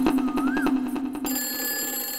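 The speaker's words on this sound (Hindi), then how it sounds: "जल्दी देखो कौन फोन कर रहा है।" A telephone rings loudly and close in a home, a steady electronic tone that shifts to a brighter, higher-pitched ring partway through, with no speech over it.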